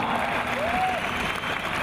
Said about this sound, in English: Let's give these guys a big hand.